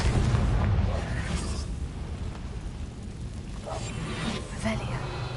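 A Confringo fire spell blasts in Hogwarts Legacy, a loud booming explosion at the start that rumbles and fades into a steady noisy background, with a couple of fainter bursts later.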